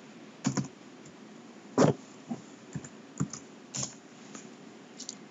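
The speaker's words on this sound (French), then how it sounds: "je tape le mot de passe" Password being typed on a computer keyboard at an office desk: a handful of separate, uneven key clicks spread across the moment, fairly quiet and close, with no talking.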